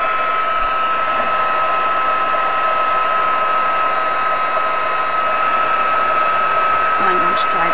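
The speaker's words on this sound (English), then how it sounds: "I'm going to give that a blast with the heat tool, and we will get it melted and set." A heat tool blows steadily on its hot setting to melt embossing powder on a small canvas, a loud, close, unbroken whirring hiss with a constant pitch throughout.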